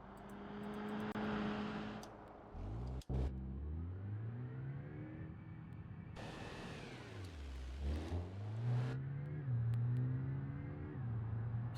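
A turbocharged car engine revs through rising and falling pitch sweeps, loud and close, with a brief cut near the start and sustained high revs toward the end.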